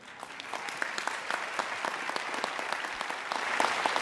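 Audience applause at the 74th Tony Awards, a scattered field of individual claps that builds slightly louder toward the end, with no talk over it.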